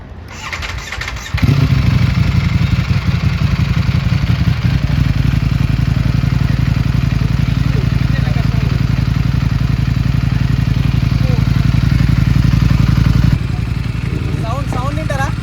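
A Ducati Streetfighter motorcycle fires up with a short starter burst, then settles into a loud, steady, rumbling idle close by, holding evenly for over ten seconds before the sound level drops near the end.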